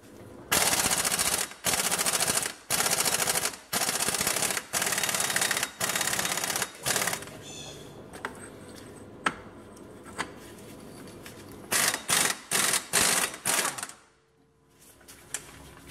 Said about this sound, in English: And then I'm gonna go ahead and use the impact gun.